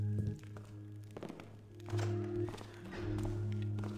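Footsteps in the Thief video game, a Greyquarter Heist fan mission: a series of soft thunks and taps over a steady low game hum, close and moderately loud, with no talking.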